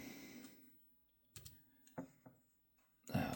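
A few scattered key presses on a small computer keyboard, soft isolated clicks with pauses between them, ending in a slightly louder cluster.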